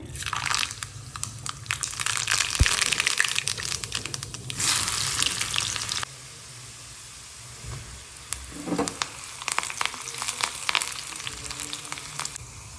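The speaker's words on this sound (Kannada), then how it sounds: "ಈಗ ಒಗ್ಗರಣೆ ಮಾಡೋಣ" Tempering spices crackle and sizzle in hot oil in sharp bursts, pausing briefly before spattering again with scattered pops and stirring noises.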